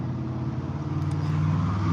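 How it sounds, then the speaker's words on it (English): Steady road traffic rumbles nearby, a continuous car drone that swells slightly toward the end, with no voices over it. "Again, sorry about the traffic."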